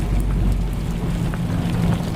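Steady rain falling outside a manufactured home on a building site, a continuous wash of patter with a low rumble underneath, as if heard from inside a vehicle.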